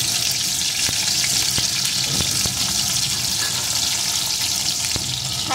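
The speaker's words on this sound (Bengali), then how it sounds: "এখন এই তেলের ভিতরে দিয়ে দেবো একটা টুকরো করে কেটে রাখা আলু" Cut potato pieces dropped into hot oil just used for frying fish give a loud, steady sizzle, with a few sharp crackles and pops scattered through it and no one talking.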